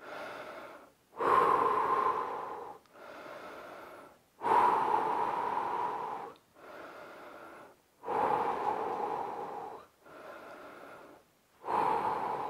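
Heavy, deliberate breathing during recovery after a home fat-loss workout: slow, loud inhales alternate with softer, longer exhales in an even rhythm, close up and alone.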